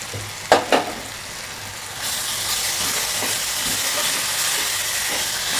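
Ginger garlic paste fries in a pan for egg curry. Two quick clunks come first, then a loud, steady sizzle swells up close and hisses on to the end.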